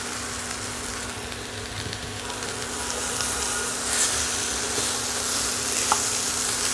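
Washed punarnava greens frying in a pan, a steady close sizzle and crackle with faint stirring, growing slightly louder partway through, no talking.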